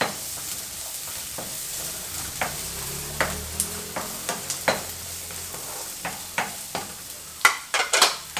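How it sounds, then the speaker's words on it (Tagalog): Cabbage rice being sautéed in a pan, a soft steady sizzle under repeated scraping and stirring strokes from a utensil, irregular and close. "Ayan, so let's just saute."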